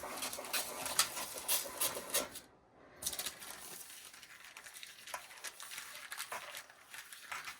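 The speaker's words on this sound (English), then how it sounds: "I'm going to cut my deli paper." Scissors cut through thin deli paper at a craft table for polymer clay bead making, a soft papery rasping and snipping, faint and close with a brief pause partway through.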